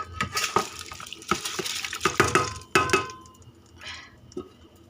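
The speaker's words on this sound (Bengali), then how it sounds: "এবার আমি ধুয়ে রাখা চাল আর ডাল দিয়ে দিচ্ছি।" Washed rice and lentils tipped into a hot pot with spices for khichuri, a wet clattering pour with splashes and small clinks, close by, fading to a faint sizzle.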